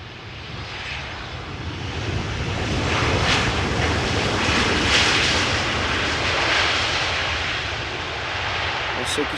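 A Transavia Boeing 737-800 arriving from Girona lands at Amsterdam Schiphol, with a sustained broadband jet engine roar that swells toward the middle and holds steady, heard from a distance outdoors with wind noise.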